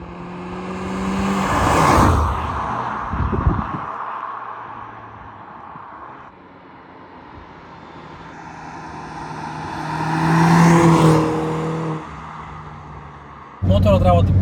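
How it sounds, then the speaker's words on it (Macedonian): A 2022 MINI Cooper Coupe John Cooper Works with a turbocharged engine runs steadily while driving, its engine note swelling louder twice as it accelerates, then easing off. A brief burst at the end cuts through. "моторот работи перфектно, нема некои чудни звуци, се слуша одлично."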